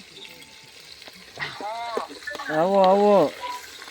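Spice tempering with garam masala sizzles and fries steadily in hot oil at a large outdoor cooking gathering, while people talk loudly nearby over it.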